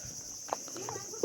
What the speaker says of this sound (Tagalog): Naririnig niyo yung kuliglig.